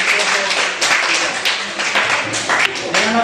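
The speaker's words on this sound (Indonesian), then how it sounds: "tepuk tangan" A classroom of students bursts into brief, dense clapping, a short loud patter of many hands heard up close, with voices mixed in.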